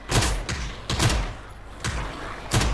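Gunfire in the video game PUBG comes as four sharp, fairly loud shots spaced roughly a second apart, each with a short echoing tail over a low background.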